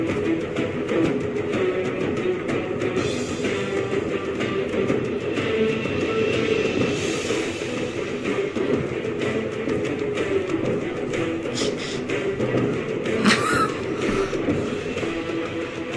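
Orchestral-style music from the Halo 3 video game soundtrack plays steadily and fairly loud throughout, with dense sustained layers and a brighter swell late on, no voices over it.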